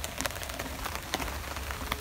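Rain patters steadily on a tarp over a campsite, with sharp individual drops tapping out irregularly above a continuous soft wash, close and moderately quiet, with no voices.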